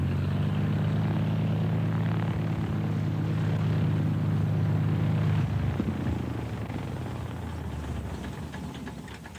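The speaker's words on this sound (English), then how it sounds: "David Weston lands his aircraft among a herd of wildebeest" A light aircraft comes in to land among a herd of wildebeest in an African national park, its droning propeller engine loud and steady before easing off and fading toward the end.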